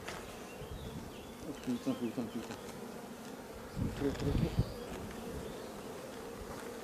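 Bees buzz in a dense swarm around an opened beehive during a summer honey harvest. The steady drone swells close by in a few louder bursts, and a man's short exclamation breaks through it.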